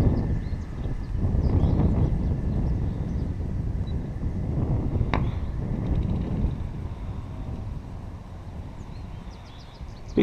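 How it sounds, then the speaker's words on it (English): Wind blowing outdoors across a field where grass is being cut, a steady low rumbling buffet on the microphone that swells and eases over several seconds, with faint distant bird chirps and no speech. "It's getting windy again."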